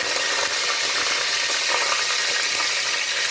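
Green chillies and curry leaves hit hot spiced oil, giving a loud, dense, continuous sizzle and crackle that holds steady close by, with no voices over it.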